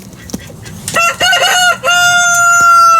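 A rooster crows loudly and close by, one long drawn-out call with a brief break midway, preceded by a short cluck and farmyard noise.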